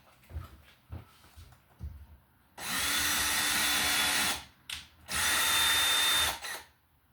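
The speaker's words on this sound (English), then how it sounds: "I'm going to drill a little hole with a sheetrock screw" A power drill whirs in two sustained bursts, loud and close, drilling a small hole with a sheetrock screw, preceded by a few faint knocks and handling sounds.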